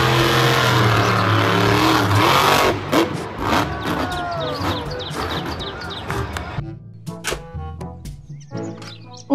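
A toy monster truck gives off a loud, buzzy engine-rev effect for the first few seconds, then breaks into scattered plastic clunks, clicks and short bleeps as it is handled.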